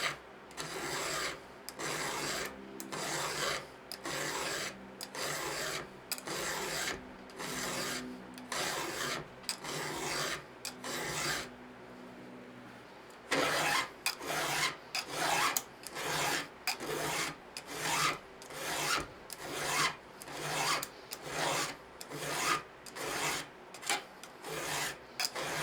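Teeth of a Japanese saw being sharpened with a file in a shed, a close, rhythmic rasping of steady back-and-forth strokes with one brief pause partway through.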